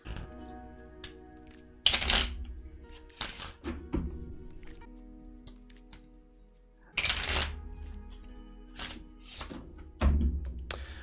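A deck of dark, spooky-themed playing cards is handled and shuffled up close, with bursts of riffling and light slaps separated by quieter fiddling and soft taps.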